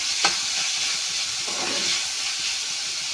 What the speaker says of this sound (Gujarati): હવે આપણે આને મિક્સ કરીશું